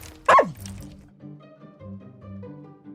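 A dog in the video game Little Orpheus gives one sharp bark near the start, followed by quieter low game music or ambience.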